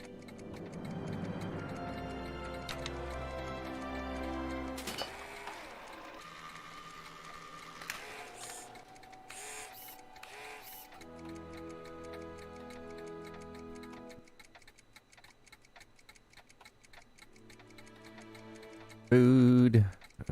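Clocks ticking in the Back to the Future video game, a steady mechanical tick-tock running under game music and effects, with a brief loud burst near the end.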